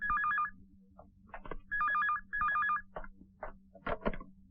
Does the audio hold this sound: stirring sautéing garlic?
no